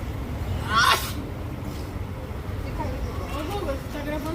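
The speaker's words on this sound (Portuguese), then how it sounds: "Eu tô gravando aqui seus espirros" A woman sneezes once sharply outdoors on a street near a fan, a loud burst early on, followed by quieter background noise and faint voices talking.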